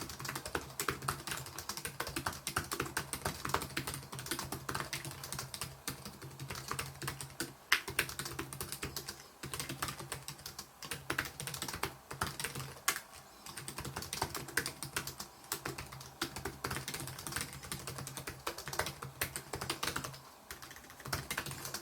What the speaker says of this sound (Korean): 글자를 한번 입력을 해보겠습니다